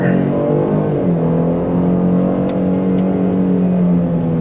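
A tuned 2022 Lincoln Aviator with a Livernois tune accelerates hard from 0 to 60, its engine note rising in steady harmonic pitch with a strong, close, continuous drone and tire and wind noise.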